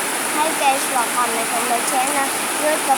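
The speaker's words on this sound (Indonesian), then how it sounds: "Maaf berisik soalnya lagi hujan lebat." Heavy rain pours steadily as a dense, continuous hiss throughout, with a person talking over it.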